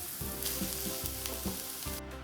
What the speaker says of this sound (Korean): 프라이팬에 식용유 2테이블스푼, 다진 마늘 1테이블스푼을 넣고 무를 볶아주세요.